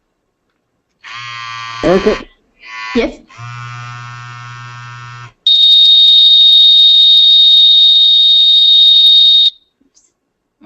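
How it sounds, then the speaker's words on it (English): An SDM 6000 unit runs its alarm check, sounding a loud, steady high-pitched electronic tone for about four seconds after a series of buzzing beeps, with brief talk between them. "It's going to do an alarm check"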